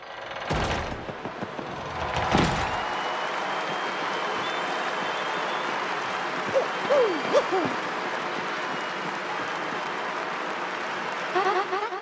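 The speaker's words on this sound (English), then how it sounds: "The crowd is going wild for Gonzalez, our third champion!" A cheering crowd roars in the Glitz Pit arena of Paper Mario: The Thousand-Year Door, a steady wash of game applause and noise with a few sharp bursts near the start.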